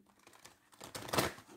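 Tarot cards are shuffled in a short burst of crisp riffling and rustling that builds louder toward the end, with no speech.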